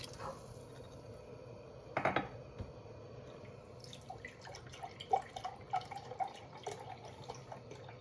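Liquid is poured into a pot of mushroom barley soup, a faint trickle with a brief splash and scattered drips and light clinks, quiet and close in a kitchen, with no talking.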